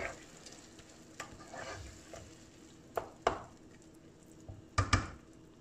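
Grated tomatoes and tomato paste sautéing in a pot for a stew of meat and peas, with a low steady sizzle, occasional stirring scrapes and a few sharp utensil knocks against the pot.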